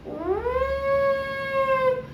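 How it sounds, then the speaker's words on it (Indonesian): One long, steady howl with a rising start and a sustained tonal pitch, clear and alone against a quiet background. "Ada suara serigala."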